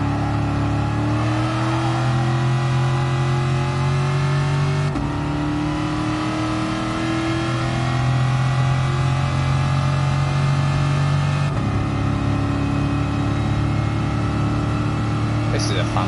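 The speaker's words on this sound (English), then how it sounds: "Slam it down through the gears." A Shelby Cobra 427 engine on a classic Le Mans time rally, revving loud and steady as it is driven hard through the gears, pitch climbing and dropping with each shift under a driver's ongoing talk.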